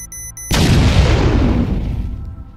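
In the video game RimWorld, a sudden heavy explosion bursts in after a brief electronic beeping from a device, then a deep rumbling roar slowly fades away.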